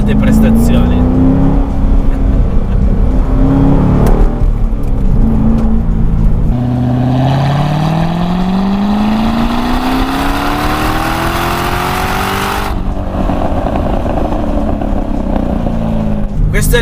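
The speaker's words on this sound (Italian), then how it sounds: "Questo LS3 è un motore pazzesco, veramente pazzesco." A Corvette C6 with its LS3 V8 revving hard, the engine note climbing steeply through the gears in long loud pulls, close and powerful, with a voice speaking over it.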